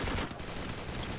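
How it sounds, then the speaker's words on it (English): Gunfire in the Free Fire battle royale game during a qualifier match, a dense, continuous burst of shots at steady loudness with no clear gaps between reports. "the only noise that we will be hearing are gunshots"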